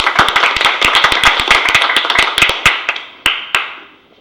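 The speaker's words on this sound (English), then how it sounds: "That is something to be applauded." Applause from the audience at an NUSD school board meeting: dense, close clapping that thins into scattered individual claps and fades out over about four seconds.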